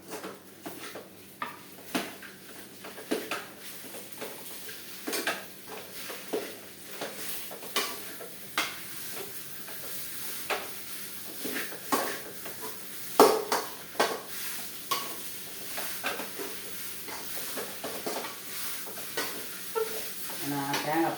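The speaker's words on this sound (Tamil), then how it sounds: "தேங்காய் போட்டு கொஞ்சம் வதக்கலாம்." Grated coconut is sautéed in a pan for an uppuma, with a steady low sizzle under repeated stirring scrapes and occasional utensil knocks, close by and moderate in level, with no talking.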